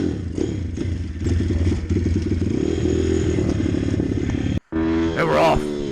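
A Chinese pit bike on a track is kicked into life and runs with a steady, close, clattering engine drone, briefly cutting out before revving up again.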